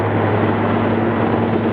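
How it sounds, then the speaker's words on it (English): Firefighting helicopters water-bombing a wind-driven Knysna wildfire on a mountainside produce a continuous, loud, close rotor and engine drone with a steady hum throughout. "As helicopters bomb the mountainside,"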